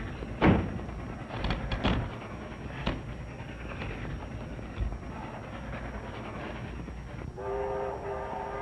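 The Phantom Express, a steam train in a 1932 film, rumbles past with rhythmic rolling clatter, a few heavy thumps and a horn blast near the end, loud and close throughout.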